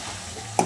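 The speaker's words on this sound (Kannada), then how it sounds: "ಸೊ ಇವಾಗ ಚೆನ್ನಾಗಿ ಮಿಕ್ಸ್ ಮಾಡ್ಕೊಬೇಕು." Chicken curry being stirred and mixed in a pan, a short burst of scraping and sizzle near the end after a low steady simmer, close and fairly quiet.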